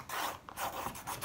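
A tool scrapes across the surface of a watercolour painting of a hen and brood in a few short rasping strokes, faint and close, with brief pauses between them.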